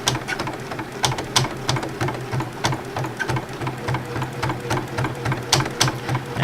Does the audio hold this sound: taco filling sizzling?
no